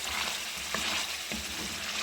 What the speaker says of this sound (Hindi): अब इसमें हम 1 कप उबले हुए चने वाइट ये डाल के थोड़ा सा इसके साथ भूनेंगे।